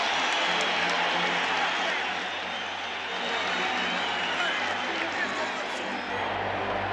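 A Rockies baseball crowd at a 1995 playoff game in Colorado keeps up a steady wash of cheering and applause, with a broadcaster talking over the din.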